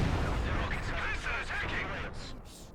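A Katyusha rocket artillery barrage in Company of Heroes 2 sets off a continuous rumble of explosions that fades slightly toward the end, with a commentator talking over it.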